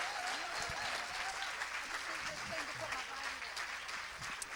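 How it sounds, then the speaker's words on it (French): A church audience applauds during a French worship meeting, steady mid-distance clapping sustained for several seconds with faint voices mixed underneath. "on l'applaudit plus fort que ça"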